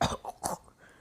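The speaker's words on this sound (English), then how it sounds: "He then coughs up some more blood." An anime character coughs up blood in a wet, rasping fit: two or three close coughs in quick succession, trailing off into quiet breathing.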